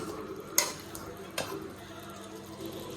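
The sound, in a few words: onions frying in a pan for butter chicken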